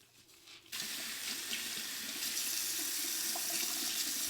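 A faucet switches on and runs steadily into a sink while soap is rinsed from a makeup brush, a close, even rush of water after a brief quiet start.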